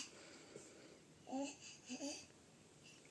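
An infant babbles softly early in the morning, a few short cooing phrases with quiet pauses between them in a hushed room.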